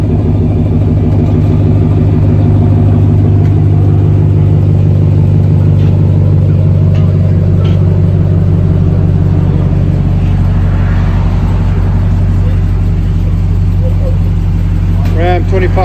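A Ram 2500 heavy duty pickup with the 5.7L HEMI V8 rumbles loud and deep through a modified exhaust, a continuous close idle drone throughout.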